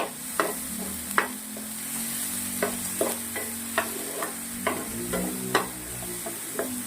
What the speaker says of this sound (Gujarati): એ ડુંગળી થોડી સોતે કરી લેવાની છે